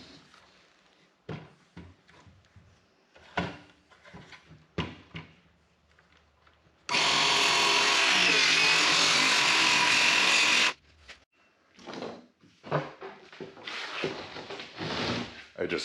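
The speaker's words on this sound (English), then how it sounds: "I just cut the end of this off with a jigsaw" A jigsaw cuts through the end of a panel of T1-11 plywood siding, a loud steady rasping burst of about four seconds set between quieter handling knocks and shuffles.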